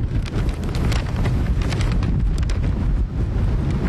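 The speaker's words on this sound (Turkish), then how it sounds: "Çok rüzgar var burada." Strong wind at Esztergom Castle roars and buffets the microphone continuously, loud and rumbling throughout.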